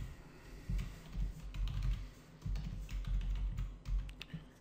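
Fingers type on a computer keyboard in quick irregular bursts of clicking keystrokes, close and fairly crisp, with short pauses between runs of keys.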